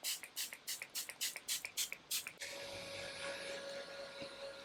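Makeup setting spray is pumped onto a face in a rapid burst of about eight short hissing sprays, close and fairly loud, followed by a steady continuous hiss.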